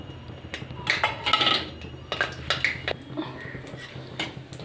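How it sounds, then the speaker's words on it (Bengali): Bay leaf, five-spice, black mustard seeds and a dried chilli are tempered in a pan, heard as a series of close metallic clinks and scrapes of utensils against cookware with faint sizzling between them. "ফোড়ন দিচ্ছি। একটি তেজপাতা আর একটু 5 ফোড়ন, একটু কালো সর্ষে আর একটি শুকনো লঙ্কা।"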